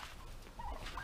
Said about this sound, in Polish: Pięknie się tutaj trzymają te indory.